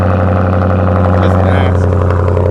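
Dodge Durango SRT engine running with a loud, deep, steady rumble close by just after a late-night cold start.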